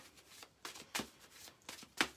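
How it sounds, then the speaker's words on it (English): A deck of angel cards being shuffled during a card reading, giving several soft riffling bursts at uneven intervals with a sharper flutter at the end, close and fairly quiet. "So just give them a shuffle."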